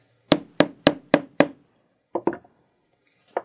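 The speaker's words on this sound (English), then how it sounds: "Now place the concave end of the rivet setter onto the cap and strike a few times with your hammer" A hammer strikes a rivet setter to set a compression rivet, five quick, evenly spaced metallic taps followed by a pause and a few lighter knocks, close and isolated.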